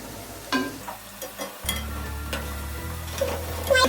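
Pakoras frying in oil for kadhi pakora, a steady low sizzle and bubbling with a few soft clinks and scrapes of a utensil turning them, fairly close and continuous with no talking.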